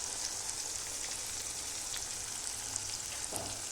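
Red chilli powder, turmeric and salt frying in oil for masoor dal, a continuous hissing sizzle, even and close, with no talk.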